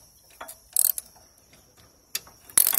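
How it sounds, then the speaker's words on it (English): Ratcheting metal clicks from a wrench loosening the bottom mounting bolts of a Honda 5.5 HP T-80 air compressor on a Keene gold dredge, coming in short separate bursts with quiet gaps between them, close by, with no talking. "I'm going to just take off or loosen these bolts on the bottom and install the belt."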